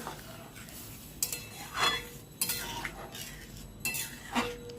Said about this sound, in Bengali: এবার সুন্দর করে নেড়ে চেড়ে দেবো